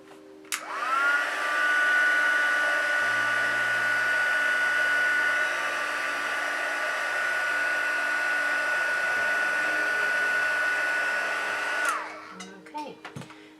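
A heat tool runs for about eleven seconds while heat-setting preliminary creases in a craft project. Its loud, steady electric whine and airflow rush cut off abruptly, followed by a few faint clicks and handling sounds.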